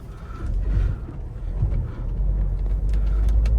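A Tata Harrier SUV engine rumbles steadily as the vehicle drives along, partly over an off-road patch, with low road noise and some rattling throughout.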